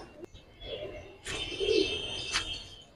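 Coloring and silver pigeons in a breeder's loft, same generation pairs, cooing: a soft low coo in the middle with a few brighter chirps and clicks around it, fairly close and otherwise quiet.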